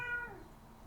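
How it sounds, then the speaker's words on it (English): A cat gives a single short meow, faint and brief, fading quickly into a quiet room. "I'm sorry about the cat."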